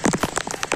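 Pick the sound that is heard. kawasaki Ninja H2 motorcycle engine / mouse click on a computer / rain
rain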